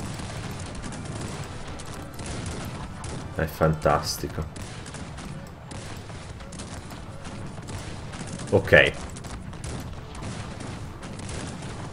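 Battle in the Cossacks III strategy game, with bursts of musket and cannon fire over two brief stretches under ongoing background noise, while someone talks over the action.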